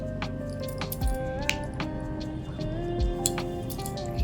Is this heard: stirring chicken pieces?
yes